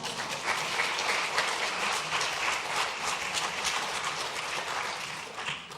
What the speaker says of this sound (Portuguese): Peço para eles uma grande salva de palmas